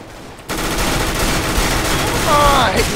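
Rapid SMG gunfire in Counter-Strike bursts out after a brief quiet start, a dense continuous rattle that stays loud to the end, with a faint whine near the close.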